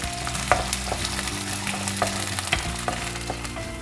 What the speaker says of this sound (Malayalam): എടുത്തു വെച്ചിരിക്കുന്ന വെളുത്തുള്ളിയും ഇഞ്ചിയും കൂടി ഇട്ട് നന്നായിട്ട് വാട്ടിയെടുക്കാം